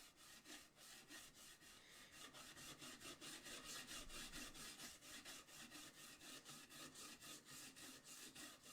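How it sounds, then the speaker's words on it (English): Sandpaper scrubs rhythmically across guitar frets during fret dressing, a steady series of quick back-and-forth rasping strokes, moderately faint and alone without talk. "I'm going to take my sandpaper to it."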